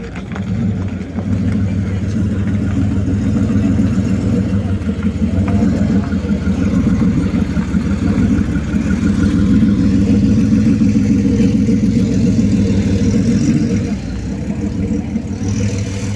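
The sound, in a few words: classic car engine idling and revving at historic circuit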